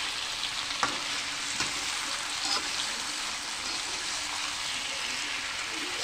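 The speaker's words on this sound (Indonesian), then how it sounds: "Ini saya juga nyambi goreng telur guys" Eggs frying in oil in a pan while a chili and eggplant sambal is being cooked, a steady close crackling sizzle with a few sharper pops, alone without talk throughout.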